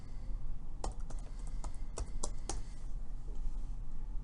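Someone types on a computer keyboard at close range, with quiet, irregular key clicks in short bursts over a faint background hiss.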